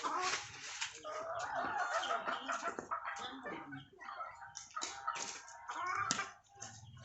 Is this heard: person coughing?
no